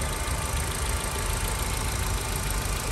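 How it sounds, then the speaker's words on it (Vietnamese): A 2012 Kia Forte engine idles smoothly and steadily up close, a continuous even hum with no talking over it. "máy nổ rất là êm"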